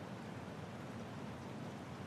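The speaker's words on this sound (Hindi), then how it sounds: "जोरों से बारिश हो रही है" Heavy rain falling in a steady, dense wash, even and unbroken throughout, with no voices heard.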